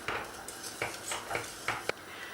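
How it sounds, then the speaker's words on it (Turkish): A spoon stirring vermicelli soup in a pot, a few light scraping clinks against the pot at an uneven pace, close and fairly quiet. "Şöyle tekrar karıştırıyorum."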